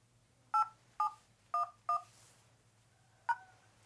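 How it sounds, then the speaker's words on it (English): Telephone keypad tones key in a voicemail password: four evenly spaced beeps, a short pause, then a fifth tone, all clear and close over a faint low hum. "enter your password, then press pound"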